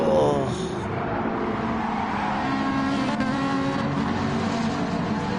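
Race cars in a PS4 racing game roar around a track, engines droning steadily and loud throughout, with a higher whine at the very start and no talk over it.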